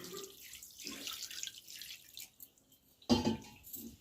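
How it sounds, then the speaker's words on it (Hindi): Fresh homemade paneer rinsed under clean running water, a soft splashing trickle with drips and intermittent gushes, quiet and close, with a sharper splash burst near the end. "तो यहाँ पे साफ पानी लिए हैं और पनीर को हम धुल ले रहे हैं।"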